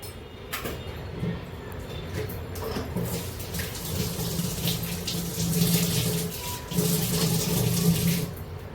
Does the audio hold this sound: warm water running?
yes